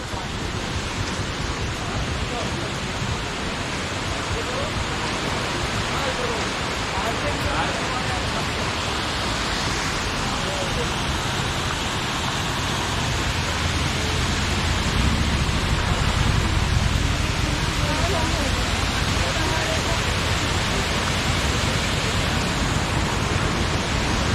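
Cheeyappara waterfall in Munnar, Kerala, a loud continuous broadband rush of falling water that stays steady and close for the whole stretch, with no breaks and no voices over it.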